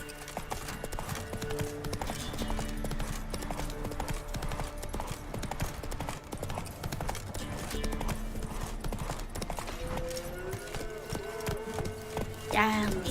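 Horse hooves clip-clop steadily in The Witcher 3: Wild Hunt, a continuous rhythmic trot under game music throughout, with a brief louder flourish near the end.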